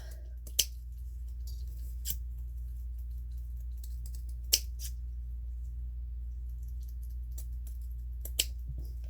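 Scissors make a few sharp, isolated snips while trimming the corners of a sewn fabric kitchen sponge, faint and close over a low steady hum, with long quiet gaps between cuts.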